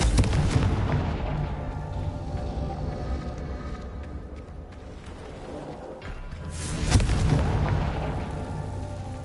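Booming Confringo blasting-spell explosions in the wizarding game Hogwarts Legacy, heavy rumbling blasts with crackling debris over a continuous roar, one burst swelling louder near the end.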